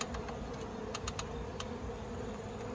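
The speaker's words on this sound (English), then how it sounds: "But there's still a lot of bees" Many honeybees swarm around a tree during a trap-out, producing a steady, dense buzzing drone with a few brief higher whines from bees flying past, moderately close and uninterrupted.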